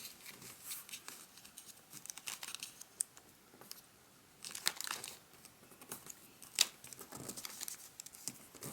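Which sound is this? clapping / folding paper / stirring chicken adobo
folding paper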